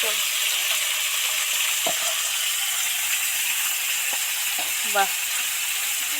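Amudi fish fry in a pan of oil with a steady, close sizzling hiss throughout, while soft voices and small clinks come in briefly over it.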